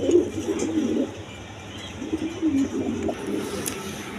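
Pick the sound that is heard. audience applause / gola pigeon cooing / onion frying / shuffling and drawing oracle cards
gola pigeon cooing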